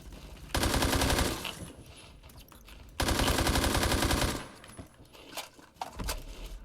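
An automatic video-game gun firing two long, loud, steady bursts of a couple of seconds each, with shell and impact clatter in the pauses after them.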